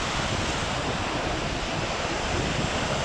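Calm sea waves wash along the beach at Anapa, a soft continuous surf hiss mixed with light wind rumble on the microphone, steady and moderately faint with no talk.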